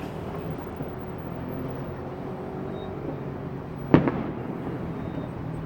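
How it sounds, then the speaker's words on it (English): A single sharp firework bang cracks out in the distance over a low continuous background rumble, followed by a brief fading echo, on Bonfire Night in London. "this is firework night in London."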